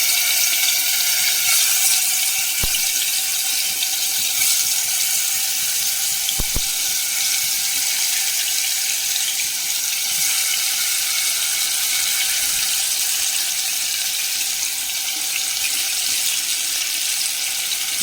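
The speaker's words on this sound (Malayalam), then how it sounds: "നമുക്ക് ചിക്കൻ പീസുകൾ വറുക്കാനിടാം" Boneless chicken pieces fry in hot oil in a pan, a dense, even hiss that holds steady from start to finish with only a couple of faint clicks and no talking.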